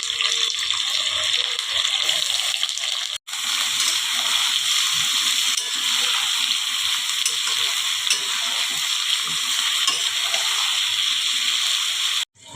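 Onions and vegetables frying in hot oil with panch phoron, the base for a Malabar spinach and katla fish head dish, give a close, steady sizzle that drops out once briefly and then runs on.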